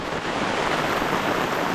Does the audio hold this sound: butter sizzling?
no